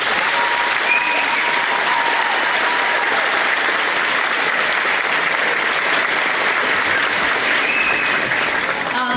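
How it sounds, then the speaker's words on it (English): Parents at an elementary school fifth-grade graduation give a steady, loud round of applause that holds at full strength for about nine seconds. "Parents, let's give them another round of applause."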